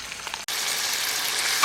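Ground spices with onion paste and green chilli sizzle and fry in a pan for dahi fish, a bright, steady frying hiss that starts after a brief pause and carries on close up, with a short scrape of stirring.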